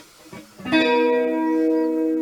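A few muted plucks, then a sustained chord on a Kramer Pacer Classic electric guitar with a chorus effect rings out, shimmering and slightly wavering as it holds.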